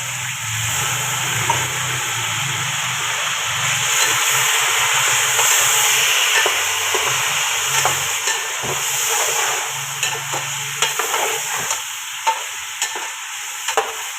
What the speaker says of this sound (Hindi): अब इसके अंदर हमारे पास जो चिकन रखा था बिस्मिल्लाहिर्रहमानिर्रहीम ये ऐड करेंगे और इसको 1 मिनट के लिए फ्राई करेंगे।